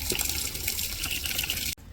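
Water spurts in a steady, close rush from an automatic timer-controlled irrigation setup in a rooftop garden, holding constant for almost two seconds before cutting off abruptly.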